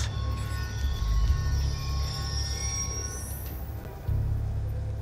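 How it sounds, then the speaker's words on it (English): A train rumbles past in the Call of Duty Black Ops 2 video game, with a steady low roll of wheels, a faint squeal, and a rising whoosh near the end. "Ain't getting anything else with that train in the way"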